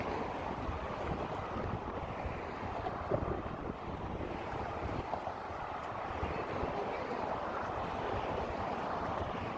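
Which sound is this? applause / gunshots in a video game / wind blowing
wind blowing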